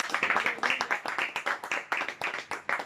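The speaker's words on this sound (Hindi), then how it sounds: "जोरदार तालियां बजाएंगे" Clapping from a congregation at a Friday afternoon Pentecostal prayer meeting in Ajman: loud, close, rhythmic claps falling in a steady, even beat throughout.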